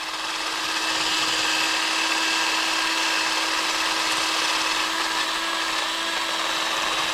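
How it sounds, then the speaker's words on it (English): A drill fitted with a sanding attachment grinds corrosion off a Kawasaki ZX10 motorcycle part, giving a steady, loud, continuous whir and abrasive hiss that holds unbroken throughout with no talking. "I need to take this outside and sand all this corrosion away"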